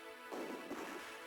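Two sharp, booming gunshots crack out about half a second apart over a steady background hum in the 2003 Pirates of the Caribbean video game, with no voices.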